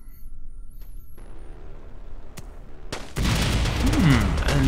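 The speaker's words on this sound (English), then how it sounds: "And the Vulcan, which is a quite reasonable weapon to be using at sort of this or higher ranges" A Vulcan rotary cannon fires in Kerbal Space Program with BD Armory: after a quieter hum with scattered faint shots, it opens up into a loud continuous buzzing roar of rapid fire that holds to the end.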